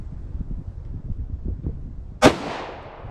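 A single sharp, loud .40 S&W handgun shot, a 130-grain Sellier & Bellot XRG defense round, cracks out after a low, murmuring background rumble, then rings off in a quick decaying tail.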